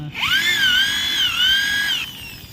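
Power drill boring out rivets on a Honda Dream Super Cub clutch, a loud close high whine rising as it spins up, holding steady for about two seconds, then stopping.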